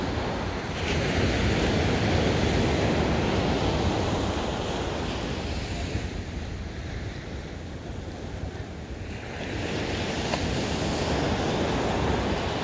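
Ocean surf washes steadily onto the California coast at dusk, a broad continuous roar with a slight lull midway before building again, heard alone without speech.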